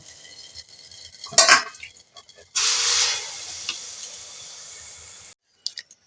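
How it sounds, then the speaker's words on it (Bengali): Chitoi pitha rice cakes cooking in a pan: a metallic clatter, then a strong burst of hissing steam and sizzle that fades, followed by quiet and a couple of small clicks. "তা পিঠেগুলো আমি এক এক করে ভেজে নেব"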